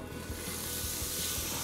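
A whole block of butter melts in a pot, giving a soft, steady sizzle with faint rhythmic scraping, close and unaccompanied by talk.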